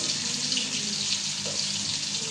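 Water runs in a steady, moderately loud stream into a pan of fried hilsa fish, an even rushing pour that lasts the whole moment with no talk.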